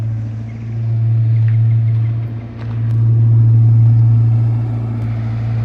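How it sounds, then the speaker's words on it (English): A car engine, a Mustang parked since 1999, runs steadily while warming up, a loud deep rumbling idle close by that dips briefly midway and then holds. "The car's warming up."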